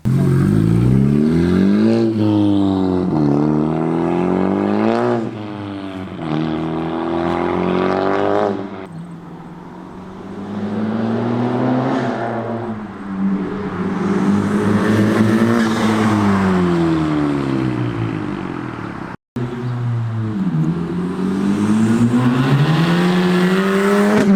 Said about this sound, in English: I will add some sound clips of the car as well within this